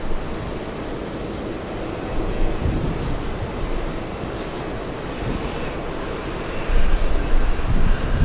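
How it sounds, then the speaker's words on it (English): A Delta Boeing 767-400 airliner arriving at JFK after a long flight from Venice, heard as a steady broadband engine roar with wind buffeting, swelling louder toward the end. "Delta's 289 flying in from Venice, a 767-400."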